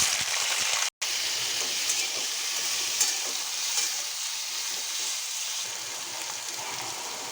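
Panch phoron spices fry in hot oil for an aloo-pumpkin-chana curry, giving a steady, bright hiss and crackle that runs throughout, broken by one brief dropout near the start.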